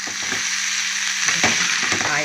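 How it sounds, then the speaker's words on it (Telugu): Pieces of food fry in hot oil, making a steady close sizzle with some stirring movement partway through. "సరే చక్కగా మనకి ముక్కలు ఫ్రై అయ్యాయి అన్నమాట."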